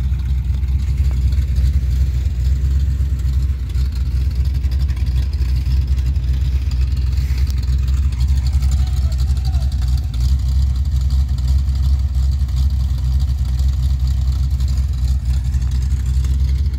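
A 1957 Chevy with headers and glass pack exhausts idles close by, a loud, deep, continuous lumpy rumble that holds steady throughout with no voices over it.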